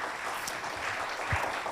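Audience applause at an Indonesian community mutual-aid event, a steady broadband wash of clapping sustained at moderate level throughout, with no talk over it.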